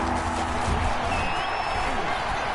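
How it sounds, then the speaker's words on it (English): Stadium crowd applause and cheering in a Madden football video game rise as a broad, steady wash of noise at moderate distance, fairly soft throughout. "How about some applause for the defense there?"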